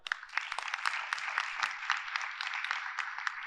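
A small audience applauds at the ACADI 2025 conference closing ceremony, with a short burst of distinct, uneven hand claps close to the mic.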